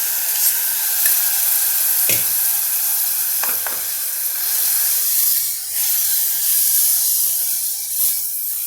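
Rice and spice paste sautéing in a pan, a loud continuous sizzle with a few sharp scraping stirs of a utensil, no talk.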